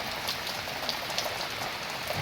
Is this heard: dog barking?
no